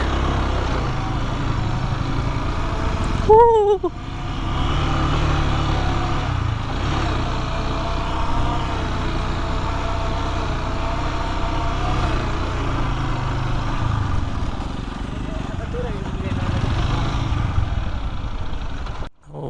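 Many bikers' motorcycles arrive at the white clay hills of Birishiri, Netrokona. Their engines make a loud, continuous drone that holds steady for nearly twenty seconds, with a brief surge early on.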